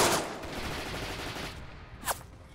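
Video game gunfire in an online multiplayer battle, heard as a burst of rapid shots at the start fading into a dense rattling wash, with a sharper single crack near the end and no talking.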